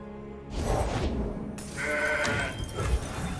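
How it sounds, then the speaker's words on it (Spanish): A goat bleating in the card game Legends of Runeterra, two or three nasal wavering bleats in quick succession, close and clear over faint game sounds. "Una cabra, perfecto."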